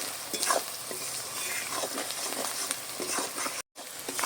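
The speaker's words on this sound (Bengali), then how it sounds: "আবার একটু মশলাটা নেড়ে চেড়ে নিচ্ছি" Masala spices stirred in a pan over heat for chicken curry, a steady sizzle broken by soft spoon scrapes, with one brief dropout near the end.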